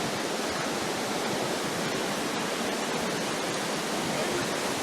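Steady roaring rush of a waterfall on the Diteki River in San Luis, Aurora, loud and close, a dense unbroken wash of falling water with no break across the clip.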